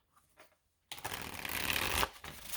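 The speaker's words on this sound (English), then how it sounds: "We're going to get a few cards out first" Tarot cards shuffled and drawn from a deck: after a brief quiet start, a dense, continuous riffling swish runs close and steady, easing off near the end.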